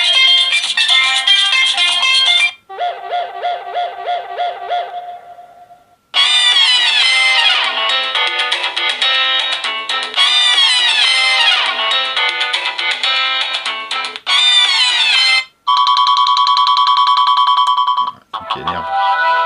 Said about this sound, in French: on va mettre une vraie sonnerie